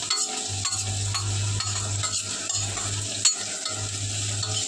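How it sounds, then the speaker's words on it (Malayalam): Onions and green chillies sautéed in a pan for clam roast, a steady sizzle with rhythmic spoon scrapes and a low hum, one sharper clack near the end, no talk. "ഇനി ഇതെല്ലാം കൂടി നന്നായിട്ടൊന്ന് വഴറ്റിയെടുക്കണം."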